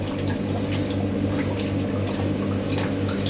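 Warm water gushes and trickles steadily from a Hotpoint WD64 Aquarius Extra washer dryer during heat drying, over a constant low hum, a continuous draining flow heard up close.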